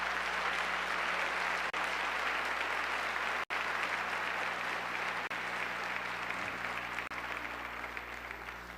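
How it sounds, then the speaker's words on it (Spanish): A church congregation applauds steadily for nearly nine seconds, a dense, even wash of many hands clapping close by with no talk over it. "Dale un aplauso al Señor si quieres"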